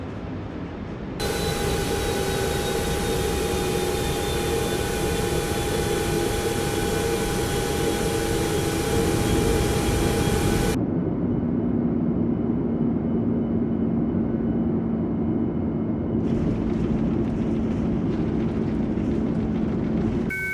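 Steady, loud aircraft engine roar from a plane in Microsoft Flight Simulator, a sustained whine with tonal hum that shifts abruptly partway through as thrust is applied, with no voice.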